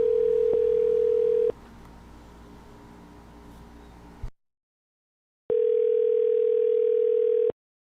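Telephone call ringing out unanswered: a steady electronic ring tone, a pause with line hiss, silence, then a second identical ring burst, clear and close.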